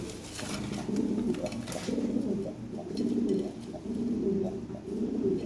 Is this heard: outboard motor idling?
no